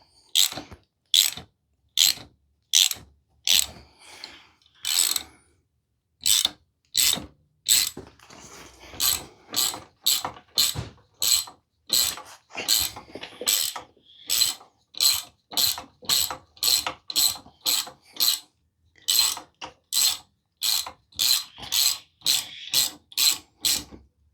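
A ratchet winds a bushing puller on a Peugeot 206 with crisp, close clicking strokes repeated steadily in short bursts, with brief pauses between them and no talk.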